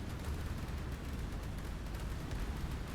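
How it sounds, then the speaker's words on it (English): Dense, continuous rumble of bombs striking a warship in the naval building game ShipCrafter, a low, sustained roar of overlapping blasts with no clear gaps and no voices. "11 bomb hits."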